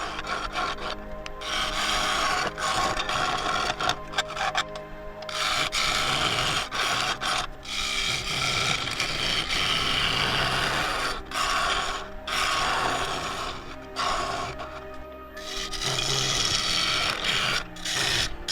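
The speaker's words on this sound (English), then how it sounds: "Throwing some really nice shavings here, and it's very satisfying to watch." A wood lathe turning an 8-inch Claret Ash snack bowl, the gouge scraping and rasping loudly and continuously as shavings fly, with brief pauses between cutting passes.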